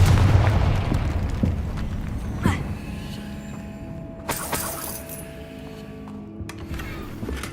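Confringo blast-curse spells going off in Hogwarts Legacy, a booming burst near the start with a few sharper blasts and crackles following, set against game ambience.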